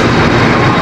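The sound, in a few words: Serayu passenger train entering the station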